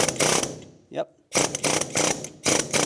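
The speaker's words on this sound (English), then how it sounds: "I switched to a long air chisel bit. I'm gonna go very gentle, but I'm hoping the vibrations will actually help push it down." A long-bit air chisel hammers a rusty steering rack mounting bushing on a 1996-2002 Toyota 4Runner, firing loud, close bursts of rapid rattling. A brief pause carries a short spoken word.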